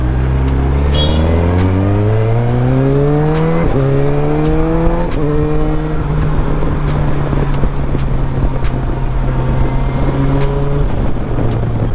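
A superbike engine revs hard and climbs through several gears, its pitch rising and dropping back with each shift before holding a high, loud roar. It is heard up close with no voices.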